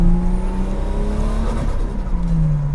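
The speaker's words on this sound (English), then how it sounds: "RB20 engine just makes a brilliant noise" A Nissan RB20 engine in an HR31 Skyline 2000 GTS-R race car revs steadily at high pitch, a loud continuous buzzing drone with the note dipping slightly and rising again near the end.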